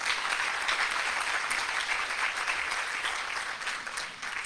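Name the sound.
audience applause for breeder keepers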